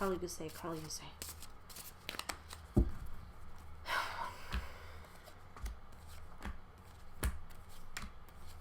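Cards are shuffled close by in quick papery flutters and taps, with a voice talking intermittently over them.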